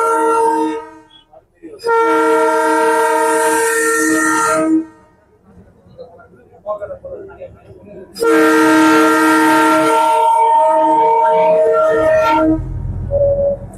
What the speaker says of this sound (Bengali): টয় ট্রেন আসছে সামনে।